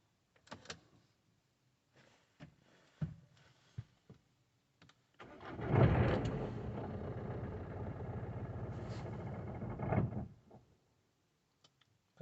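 A 2018 Citroen Berlingo that had sat unused for six months cranks and catches, its engine running roughly for about four seconds before stalling, with scattered clicks and clunks before it. No one speaks.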